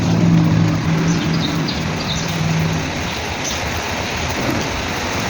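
Steady rain pours down outdoors in Thailand, a dense broadband hiss that stays loud and continuous throughout, with a faint low hum early on and no speech.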